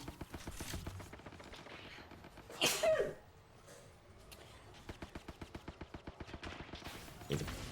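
A single close sneeze bursts out amid rapid clicking and video game gunfire, which continue on both sides of it.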